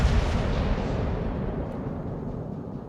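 A heavy naval gun salvo firing SAP shells in World of Warships, one deep booming blast that rolls off into a long rumbling decay, loud and alone.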